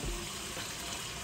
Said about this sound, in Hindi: तो चलें हम पानी डालते हैं यहाँ पर